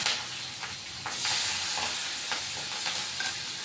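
Slit green chilies and tomatoes hit hot oil over a tempering of spices, setting off a loud, steady frying sizzle with sputtering bursts and swells as the pan is stirred.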